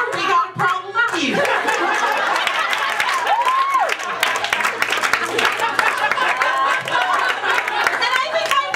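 Audience at a stand-up comedy show breaks into sustained clapping and cheering with some laughter, a dense crowd roar that carries on for several seconds while a voice talks over it.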